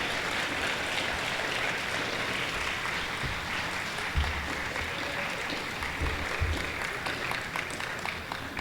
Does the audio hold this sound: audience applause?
yes